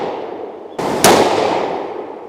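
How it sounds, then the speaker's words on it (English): A rifle fitted with a Discoveropt HD GEN-II 5-30x56 first focal plane scope fires one sharp, loud shot close by, with a brief echoing decay trailing off afterward. "I think I pulled that second shot."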